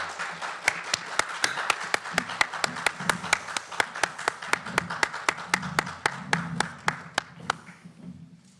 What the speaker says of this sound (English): Let's have a round of applause for our competitors.